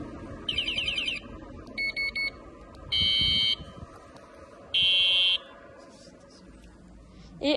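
A Rockbros electric bicycle horn in alarm mode gives several short electronic bursts, some warbling and some steady tones, separated by pauses over faint background noise.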